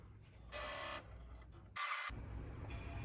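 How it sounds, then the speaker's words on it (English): A 2009 Mac Pro computer powers on with a short, loud startup chime that lands partway through, preceded by a brief burst of fan or drive noise amid steady room hum. "Oh, we got a startup sound."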